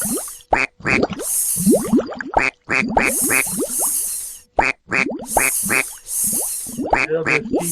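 Cartoon duck quacks in a children's reading app game, a rapid series of bright, close quacks with springy boing-like effects between them and a few short pauses.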